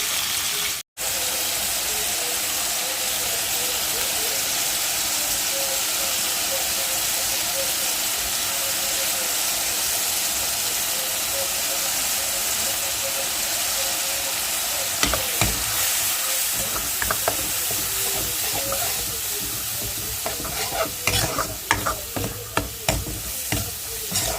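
Fish frying in hot oil gives a loud, steady close sizzle throughout, with stirring clatter and scraping toward the end.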